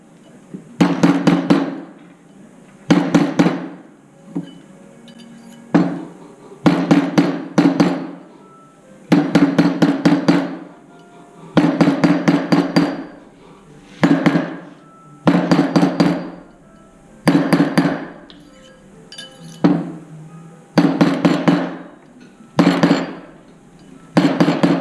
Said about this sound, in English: I'm just hitting it against the mandrel.